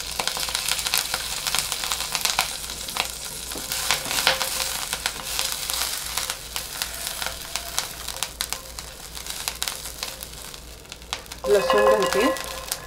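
Green chillies frying in a spoonful of oil: a steady, close crackling sizzle with dense popping throughout, and a brief clatter of stirring near the end.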